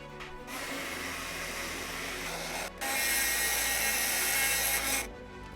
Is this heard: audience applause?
no